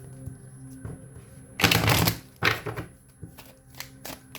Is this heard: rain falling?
no